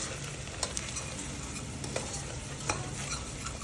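Browned onion and garlic with chilli, turmeric, salt and spices frying in a pan for dal varan, a steady close sizzle broken by a few scraping stirs of a spoon.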